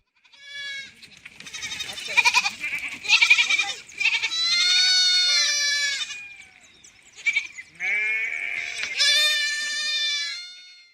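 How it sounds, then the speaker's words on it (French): A herd of goats or sheep heading into a stable, with loud, overlapping bleats close by, some long and wavering, a few shorter calls, and a brief pause before more bleating. "Elle entend ensuite un troupeau qui rentre à l'étable."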